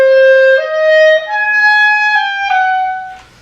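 Clarinet plays a slow, sustained etude passage, long held notes stepping downward with brief breaks between them, close and clear, ending with a soft breathy fade.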